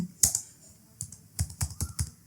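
A computer keyboard is typed on while a prompt is entered, giving close, crisp clicks, a few scattered keystrokes followed by a quicker run of taps.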